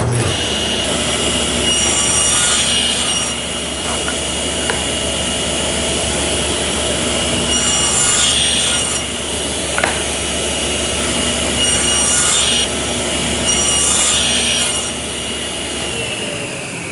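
A hand saw cuts a tenon in wood, with rasping strokes repeating in a rough rhythm every couple of seconds. The sound is close and fairly loud, and nobody speaks.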